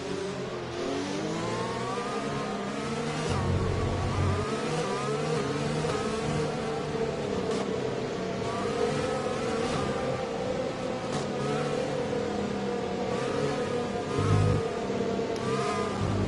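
Formula 1 car engine from the F1 2020 racing game at the USA round, a steady high-pitched drone with shifting harmonics and brief low thumps, loud and continuous throughout.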